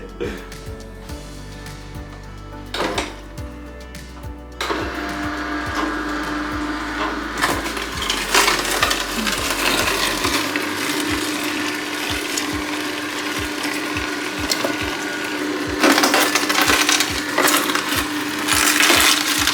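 A juicer crushes vegetables with rapid ratcheting clicks and mechanical whirring, loud and continuous, with a few sharper cracks along the way.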